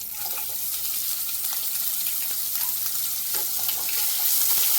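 Onions sizzle in a pan alongside potato and capsicum, a dense, steady frying hiss with faint crackles, loud and close.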